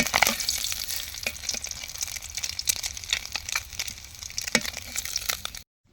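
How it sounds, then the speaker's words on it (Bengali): An egg fries in oil until reddish-brown, with a continuous sizzle and scattered sharp pops and crackles that cut off abruptly at the end. "লাল লাল করে একদম ভেজে নিচ্ছে"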